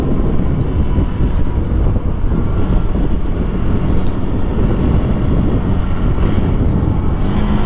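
A KTM RC 390 motorcycle being ridden at speed, with a constant engine hum buried under heavy, loud wind rush across the microphone for the whole stretch.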